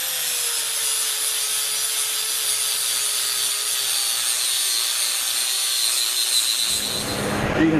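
Sandpaper rubs steadily over an old steel axe head during restoration, a continuous gritty scraping that holds an even loudness for about seven seconds before shifting slightly near the end, with no talking.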